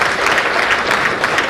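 Dense, steady applause from an audience at a Nizamabad gathering fills the whole stretch, loud and close with no pauses and no voices standing out.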